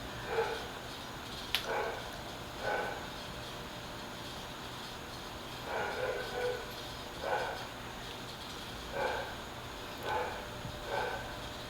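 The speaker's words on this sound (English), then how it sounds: "Then he gets the little dog going. And it's just a bark fest." A small dog barks in short repeated bursts, spaced a couple of seconds apart, at moderate distance in a quiet room.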